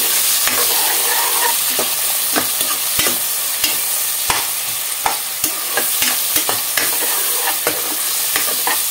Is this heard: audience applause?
no